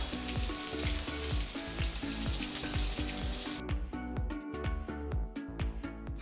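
Mushrooms frying in hot oil for chilli mushroom, a loud, steady sizzle with crackling pops that thins partway through as if stirred or the heat shifts, no voices.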